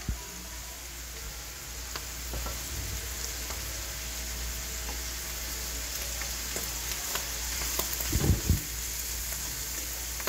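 Ingredients for carbonara sizzle softly and steadily in a pan, a faint continuous frying hiss with occasional small crackles and a brief clatter of utensil against the pan near the end.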